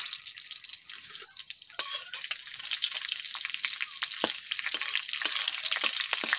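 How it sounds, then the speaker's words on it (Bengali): Panch phoron spices and slit green chillies fry in a little oil, crackling and popping steadily with small spatters, close and fairly quiet with no talking. "পাঁচ ফোড়নটাকে একটু লালচে করে আমি ভেজে নিচ্ছি।"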